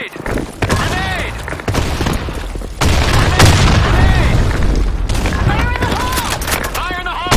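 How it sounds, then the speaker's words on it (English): Loud booming blasts and gunfire in a first-person shooter game, dense overlapping explosions and shots close by, with voices calling out over the chaos. "Grenade! Grenade!"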